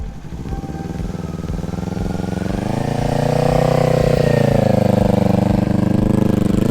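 A motorcycle engine hums steadily during a slow parking-lot turn, pitch rising slightly as power is held on through the lean, close and continuous with no break.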